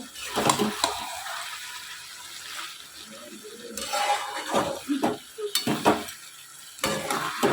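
Mutton pieces for kosha mangsho, salted and releasing water, are stirred and fried in a pan, with repeated scraping strokes of a spoon over a steady sizzle, close and fairly loud.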